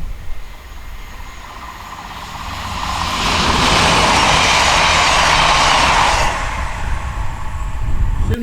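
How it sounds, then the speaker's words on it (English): A Cross Country Voyager diesel unit on the East Coast Main Line, running from Aberdeen to Plymouth, passes at speed: a steady background rumble swells into a loud, close rushing roar that lasts several seconds and then eases off. "1 Victor 60 turns up with a Cross Country Voyager number 221144 from Aberdeen to Plymouth."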